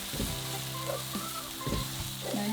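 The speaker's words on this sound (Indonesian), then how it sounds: "ini kita tumis sampai matang betul ya guys, bumbunya" Ground spice paste sautéing in oil for beef ribs, a loud steady sizzle broken by several scraping stirs of a utensil against the pan, close up and with no voices.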